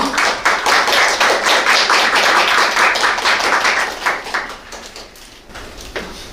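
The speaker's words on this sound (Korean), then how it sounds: "박수로 맞이해주시기 바랍니다." Audience applause at a Sejong forum as a congratulatory speaker is welcomed: dense, steady clapping from a crowd that holds for several seconds, then thins and fades toward the end.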